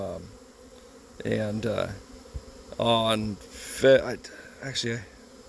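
Honeybees fly around their hives in mid-February on cleansing flights, a buzzing hum that rises and falls in bursts while someone talks over it.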